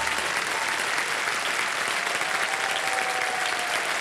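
A studio audience on the Kaun Banega Crorepati quiz show bursts into full, even applause for a contestant. The clapping is loud and unbroken from start to finish.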